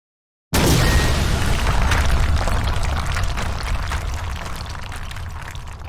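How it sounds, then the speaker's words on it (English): A loud explosion bang in the video game Everlasting Summer erupts abruptly out of silence, then a dense roaring rumble slowly fades over several seconds. "A horrible bang almost split my eardrums."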